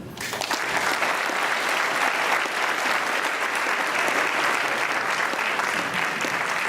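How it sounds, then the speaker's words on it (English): Sustained applause from a large audience at a 2016 unity dinner, a dense, steady wash of many hands clapping at once, loud and continuous throughout with no talking over it. "Another round of applause, please"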